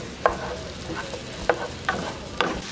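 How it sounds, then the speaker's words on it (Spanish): Onions fry gently in a pan for jalapeño sauce, a soft background sizzle broken by four distinct scrapes and clinks of a spoon stirring at irregular intervals. "no he dejado de estar moviendo la cebolla"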